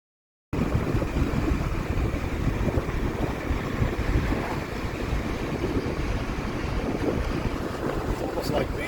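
Wind and lapping waves on a large lake at Occoneechee State Park in Virginia, a steady broadband rush with gusty microphone buffeting throughout, no talking.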